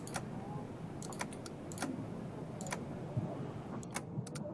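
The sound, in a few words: typing on a computer keyboard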